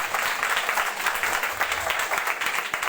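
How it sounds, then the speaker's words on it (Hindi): Loud, dense applause fills a church, with many hands clapping continuously and evenly throughout the short stretch. "तो जोरदार तालियां"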